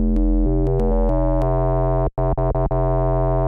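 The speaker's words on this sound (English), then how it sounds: "This is sine folding distortion." Synthesizer sine tone run through wavefolding distortion, giving a bright, buzzy FM-like timbre as the pitch steps through several held notes, then cuts out briefly and stutters in short bursts before sustaining again.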